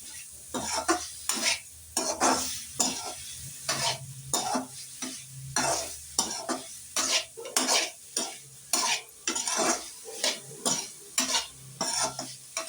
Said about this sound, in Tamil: அதனால் மிளகு பொடி போட்டதுக்கப்புறமும் அதில் நல்லா சுருள வதக்கணும்